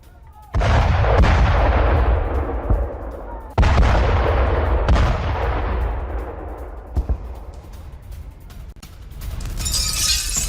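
Large explosions at Belgorod airport during a Ukrainian attack, with oil tankers blowing up: two heavy booming blasts a few seconds apart, each rolling and rumbling as it slowly decays, followed by a few smaller cracks and distant crackling.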